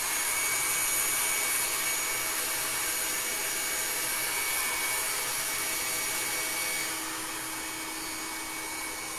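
A hair dryer blows over a freshly painted photo frame, a steady close airy whir that runs unbroken throughout, with no voices.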